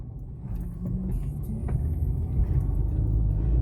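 Honda Civic 170i engine drones steadily while driving through short residential streets with speed bumps, a loud, close low rumble that swells slightly toward the end.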